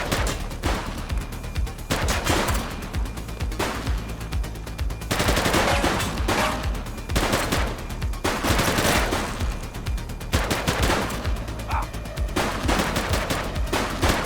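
A police shootout in the video game The Precinct erupts in loud, sustained automatic gunfire, with rapid overlapping bursts that pause briefly and then resume across the whole stretch.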